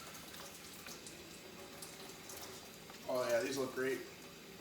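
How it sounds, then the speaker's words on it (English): Cold tap water runs in a soft, steady stream while baby back ribs are rinsed under it; someone briefly speaks near the end. "When you're taking your ribs out, always give them a little rinse. I use cold water."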